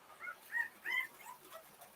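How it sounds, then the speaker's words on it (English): American Bully puppies whimper and yip nearby, a few thin, high cries in short bursts over a quiet background, with no one talking. "Do I hear puppies?"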